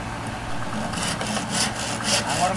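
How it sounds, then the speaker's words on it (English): Bamboo poles are sawn while building a shelter in Indonesia, with short rasping strokes rising over a steady low background hum. "They're sawn off and then tied."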